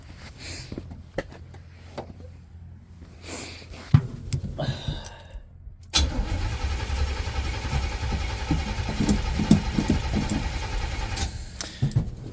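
A carbureted car engine that is being worked on cranks with a few sputtering attempts, then catches about halfway through and runs loud and rough for several seconds.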